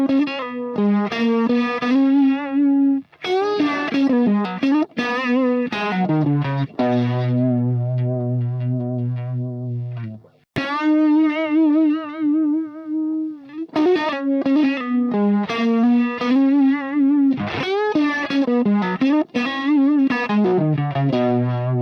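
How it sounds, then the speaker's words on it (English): Electric guitar runs through a Uni-Vibe preamp into a pedal chain, giving a distorted, swirling tone. Phrases are played loud and up close, with sustained chords, a brief cutoff mid-clip and no talking. "The preamp of the uni-vibe is hitting the pedal chain first, and so there's already a juiced up signal"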